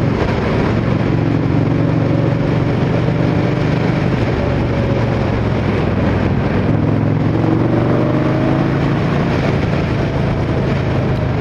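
A 100-horsepower Indian Scout Bobber Twenty motorcycle accelerates on the road, its V-twin engine a constant loud drone with rising tonal pitch sweeps as it pulls through the gears, mixed with wind rush.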